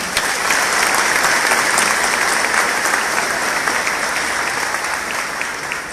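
Steady, dense applause from a large audience at a party swearing-in ceremony in El Salvador, holding loud and even for several seconds before easing slightly at the end.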